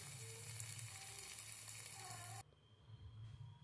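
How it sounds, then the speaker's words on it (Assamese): Cashews fry in a pan with a close, steady sizzle that drops abruptly partway through to a quieter hiss. "কাজুখিনিও দি পেলাই অকণমান সময় ভাজিম"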